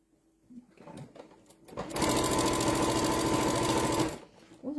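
A sewing machine stitches quilt binding in a steady, fast, motorized run of about two seconds, loud and close, with faint handling noises before and after.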